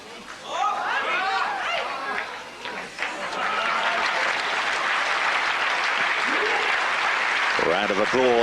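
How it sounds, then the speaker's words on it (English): Audience applause rises from the crowd at a 1998 Brunswick women's tour bowling tournament in Germany, sustained and fairly loud across the arena, mixed with chatter and a commentator talking over it. "A round of applause"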